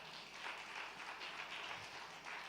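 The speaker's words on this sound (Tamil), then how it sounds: "கைத்தட்டுங்க பார்க்கலாம்" A church congregation at a Sunday evening service applauding, steady clapping from many hands that swells and dips slightly, fairly faint and at a distance.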